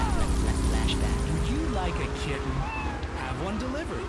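Kitten meows under talk in a pet delivery radio ad in GTA 3 Definitive Edition. Several short mewing cries are mixed in with engine and traffic noise from the game.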